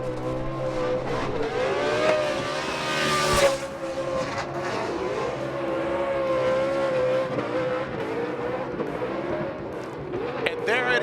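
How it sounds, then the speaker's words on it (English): A drift car does a celebratory tire-burning burnout at Irwindale Speedway, its engine droning steadily at high revs with squealing tires, over crowd noise and a commentator talking throughout. "with a celebratory burning up tires here at the iconic track, Irwindale Speedway"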